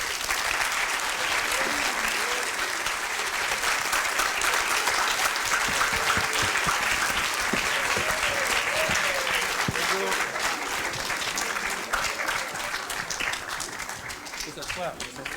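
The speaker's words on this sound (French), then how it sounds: "Je vous demande d'accueillir et d'applaudir très très fort Monsieur Jean-Jacques Hano." Loud, dense applause from a festival audience welcoming a film director to a masterclass at the Canneseries event, sustained and close throughout, with voices faintly under the clapping.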